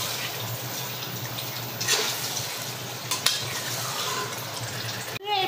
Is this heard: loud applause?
no